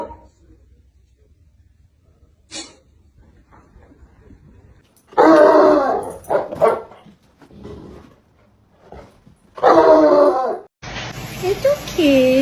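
Dogs bark and yelp in a few loud, close bursts separated by quiet stretches in a home setting, a corgi among them, with a voice heard near the end.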